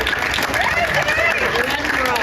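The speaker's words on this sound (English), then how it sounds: "Go ahead and clap real loud if your family is crazy." Loud, dense applause and clapping from a comedy-club audience at a clean stand-up show in Mesa, a steady wash of many hands that fills the whole stretch with crowd noise mixed in.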